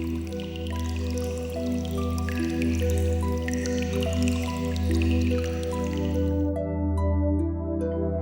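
Water drips into a bowl inside a Buddhist hall at the Dazu Rock Carvings, the small steady drops falling over a continuous low humming drone that fills the space.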